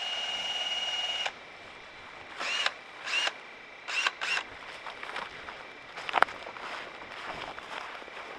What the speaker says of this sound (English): you can see just by reversing my drill, almost all of it is off of it